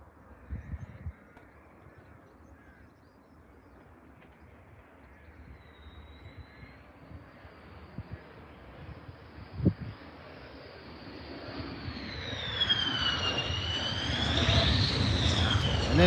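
A jet airliner on final approach grows from a faint distant whine into a loud, close roar with a rising and falling turbine whistle as it passes low overhead, with a brief sharp knock midway.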